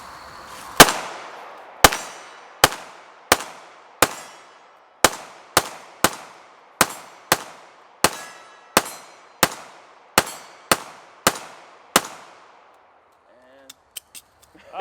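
A FLUX Raider toy blaster fires about fourteen sharp, loud cracks at a steady pace, each snapping close and clean with a short decay, followed by a few faint clicks at the end.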